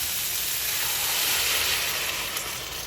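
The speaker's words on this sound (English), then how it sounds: "Hear that sizzle" Chicken sizzling in a pan as sweet and sour sauce goes in, a steady close hiss holding evenly throughout with no talk.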